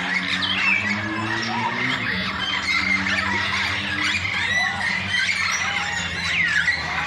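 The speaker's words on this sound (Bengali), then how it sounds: "এরপরে আমরা চলে এসেছি অ্যামাজন প্যারটের কাছে।" An Amazon parrot at a mini zoo in New Town, Kolkata, lets out harsh, repeated squawks, loud at first, then scattered sharper calls over a low background hum.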